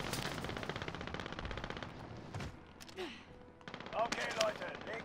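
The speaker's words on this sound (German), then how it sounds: "ich höre nur die Schüsse" Automatic and single gunfire from a Call of Duty Warzone match, rapid bursts and scattered shots mixed with game effects, fairly faint and busy, with some voice chat underneath.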